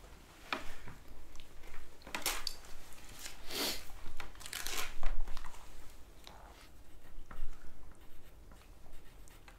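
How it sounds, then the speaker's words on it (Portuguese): Handwriting a note: pen scratching on paper at close range in soft, irregular strokes and scribbles, with a quiet background and no talking. "Agora eu vou escrever um recado para vocês."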